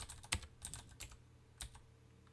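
Quiet keystrokes tap on a computer keyboard in a series of irregular clicks, with a few sharper presses standing out and no talking.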